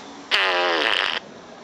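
A fart sound effect blares loud and close, a buzzy, sputtering tone lasting just under a second that ends abruptly and plays alone without speech.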